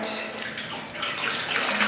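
About four cups of water pour steadily into a dye pot for yarn dyeing, a continuous splashing, hissing gush at moderate, fairly faint level, close by and with no voices over it.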